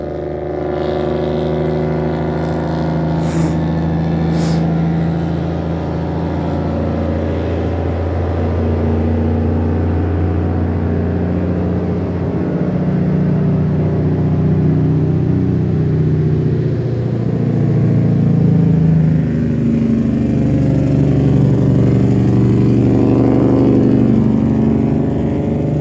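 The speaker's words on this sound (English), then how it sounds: "as usual, the trucks here are incredibly noisy" Noisy trucks rumble past on a street in a steady, loud, continuous drone of heavy engines that swells and fades slightly over time, with no voices.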